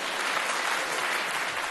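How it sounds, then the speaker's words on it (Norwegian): Studio audience at the 1987 Melodi Grand Prix song contest claps during the vote count, a brief, even burst of many hands heard from a slight distance, steady from start to finish. "Dere må bare klappe."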